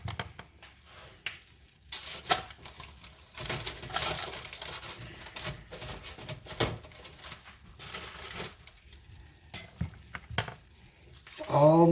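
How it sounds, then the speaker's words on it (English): Soft, irregular bubbling and popping from candy syrup boiling in a pot, nearly at a full boil, quiet and close, with occasional faint clinks. "It's almost come to that full boil there."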